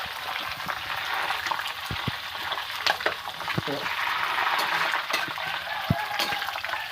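Jackfruit leaves fry in hot oil in a pan until golden, giving a steady bubbling sizzle with scattered pops, while someone talks over the cooking.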